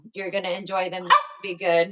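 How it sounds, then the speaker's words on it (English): A hungry dog gives a short, sharp bark or yip indoors, briefly cutting through a person talking nearby. "Excuse my dog. He's hungry."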